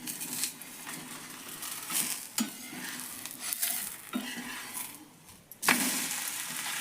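Leftover-rice thalipeeth frying in a pan with a soft continuous crackle, broken by a few scraping thumps as it is moved and flipped, fairly faint, with no voices.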